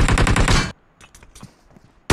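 Video game gunfire bursts loudly in rapid shots that blow up a petrol can, followed by scattered faint clatters and debris, then a sharp loud crack at the very end.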